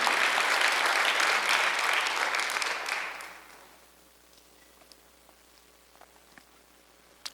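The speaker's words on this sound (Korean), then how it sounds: "박수하세요." Congregation applause at a Korean church Sunday worship service, a dense, loud wash of clapping for about three seconds that then fades out, leaving a quiet room with a few faint scattered claps.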